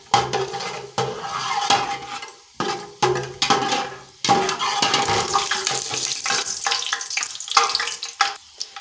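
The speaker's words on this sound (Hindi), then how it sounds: "इसको हम थोड़ा सा भून लेते हैं।" Chana pulao ingredients roast in a pan with a bright, steady sizzle broken by short gaps and bursts of stirring, close and fairly loud, with no talking.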